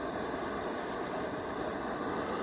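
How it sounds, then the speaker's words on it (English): Steam hisses steadily from a GSI Outdoors 1-liter aluminum Halulite boiler heating on a small camp stove outdoors, a continuous close, even rushing sound with no talk. "Got a little steam already."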